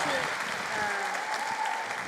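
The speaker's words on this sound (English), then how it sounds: "Let's give Kim Deramo a round of applause" Audience applause for Kim D'Eramo at a live speaking event, a steady wash of many hands clapping for about two seconds, with a voice talking over it.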